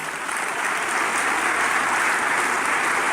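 A church congregation claps together, a dense, even wash of applause that swells slightly and carries on without a break.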